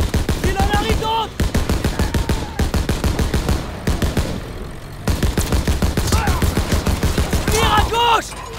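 Heavy, sustained gunfire in the Call of Duty WW2 Normandy landing level, with rapid machine-gun bursts and rifle shots almost nonstop, and brief voices shouting between the bursts.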